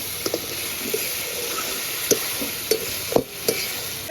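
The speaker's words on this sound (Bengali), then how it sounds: "আলুগুলো দিয়ে একটু ভালো করে একটু কষিয়ে নেব।" Fried potatoes are stirred into a mutton curry in a pan, with a low steady sizzle broken by several sharp scrapes and clinks of the spoon at uneven intervals.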